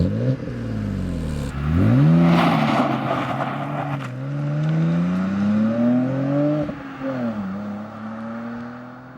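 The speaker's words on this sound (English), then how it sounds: "Okay, so driving the Z4, here we go." A BMW Z4 E89 sports car pulls away with its engine revving up through rising gears, loud and close, with a throaty surge and a brief dip at each shift.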